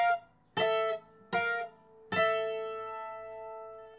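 Requinto guitar picks out a short melody in three separate plucked bursts, the last note ringing out and slowly fading, played alone without talk.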